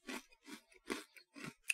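Four or five loud, crisp crunches of a crunchy snack being chewed close to the microphone, evenly spaced with short pauses.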